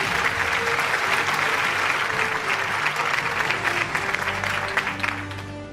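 Sustained audience applause at an annual award show, a dense, steady wash of clapping from a large crowd that fills the whole stretch, with faint background music tones underneath and a slight fade near the end.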